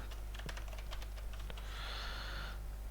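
A few quick, soft keystrokes tap on a computer keyboard over a steady low hum while a word is typed into an MS Word document.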